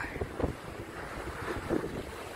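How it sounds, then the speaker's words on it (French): Strong wind roaring steadily past a sailboat on a broad reach at six to seven knots during a solo crossing of the Bay of Biscay, with hull and water rushing underneath and buffeting against the microphone. "ça souffle fort, on est au petit largue, ça avance hyper bien"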